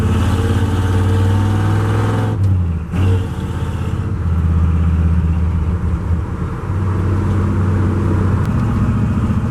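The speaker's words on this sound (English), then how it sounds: "Well, guys, driving the truck." Steady engine drone from a Ford F-100 pickup with a swapped 5-speed, loud and close, with a low harmonic hum that briefly drops out and then resumes.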